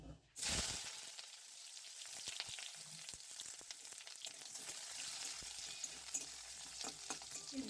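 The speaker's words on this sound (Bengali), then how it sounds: "প্রথমে আমি এই বেগুনগুলোকে একটু এই তেলের মধ্যে ভেজে নিচ্ছি" Eggplant pieces frying in hot oil, a continuous crackling sizzle with scattered pops, moderately close and steady throughout.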